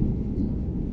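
Deep thunder rumbles continuously right after a powerful lightning strike during a severe summer thunderstorm, a loud, sustained low roar filling the whole second.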